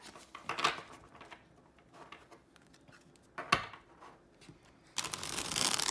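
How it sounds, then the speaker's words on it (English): A deck of tarot cards being shuffled close up, quiet riffling bursts with pauses between them, ending in a longer continuous shuffle. "so we're going to give this a shuffle"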